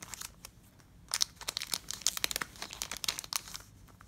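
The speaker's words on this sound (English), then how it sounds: "Let's open up some Pokemon cards" A Japanese Pokemon Moon card pack wrapper is torn and opened by hand, close crinkling and crackling foil in rapid irregular bursts with no talk.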